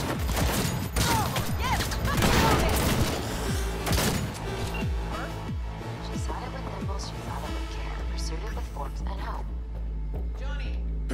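Gunfire in the video game Cyberpunk 2077, a dense run of loud booming shots and bursts over a thick game soundtrack, with excited talk throughout.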